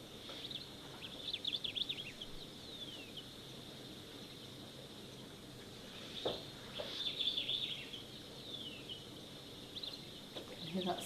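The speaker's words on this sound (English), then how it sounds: "Hear that sombre greenbull calling again" A sombre greenbull calls at a waterhole, repeated high chirping phrases in short bursts, faint and somewhat distant against a quiet hum of insects, with people talking softly.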